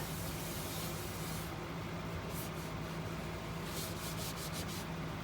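Abrasive grit scrubs steadily against a turned mimosa wood bowl spinning on the lathe, giving a continuous close rasping hiss with faint rhythmic swishes and no talk.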